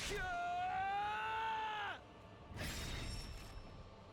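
A long, loud anguished scream from a character in the video game The Hundred Line Last Defense Academy, rising then cutting off sharply, followed by a harsh burst of mechanical noise and a fading tone.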